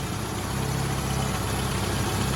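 A Clubman car with a rebuilt standard engine idles steadily, a continuous even engine drone with faint vibration and no talk.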